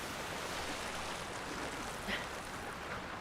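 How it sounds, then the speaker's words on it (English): A waterfall in Tears of the Kingdom rushes as a steady, dense wash of falling water, constant and fairly loud for the whole stretch with no talk over it. "Oh, here's another waterfall."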